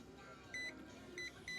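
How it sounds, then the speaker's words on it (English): Three short, faint high-pitched electronic beeps from a Hobbywing electronic speed controller sound at uneven intervals over low background hum. "I'm going to hold this button on until it beeps."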